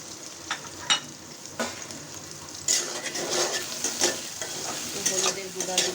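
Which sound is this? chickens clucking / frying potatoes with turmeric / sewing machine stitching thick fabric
frying potatoes with turmeric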